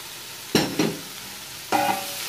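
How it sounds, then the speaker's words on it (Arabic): Crushed garlic and dried coriander fry in a pan, sizzling softly in the background, with three short bursts of louder crackling as the mixture is stirred. "كمان خليها تتحمص لبين ما الثوم شوي ياخذ لون ذهبي"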